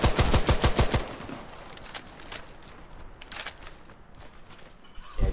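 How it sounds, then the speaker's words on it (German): An automatic weapon fires a rapid, loud burst of about ten shots in a Warface video game match, followed by quieter scattered shots and a final shot at the end, with no talk. "Mit einer Autowaffe, die nicht mal schnell schießt."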